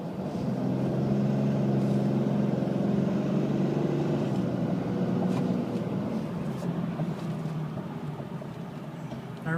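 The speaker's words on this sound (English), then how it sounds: "I'm going to accelerate again to show you the boost gauge" A 2013 Ram 2500 4x4 pickup accelerates with a steady, loud engine drone and a layered low hum that holds close throughout, easing slightly near the end with no talking.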